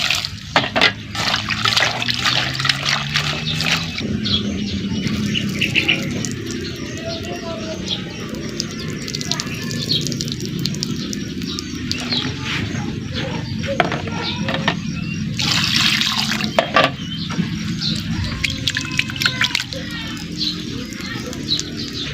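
Running water splashes as a pot holding bamboo shoots is rinsed, with scraping and clinks, under ongoing talk and faint birds cooing in the background.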